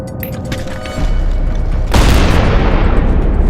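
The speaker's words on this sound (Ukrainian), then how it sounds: "Це вони кидають! Це вони! Граната!" Grenades explode in close combat near Avdiivka: a sharp jump in loudness, then a heavy, roaring blast that stays loud and rumbling until the end.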